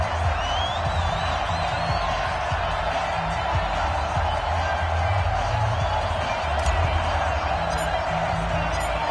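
A stadium crowd murmurs and cheers in an EA Sports NFL video game set at a Falcons vs. Panthers matchup. The roar holds steady and broad under low, rumbling commentary.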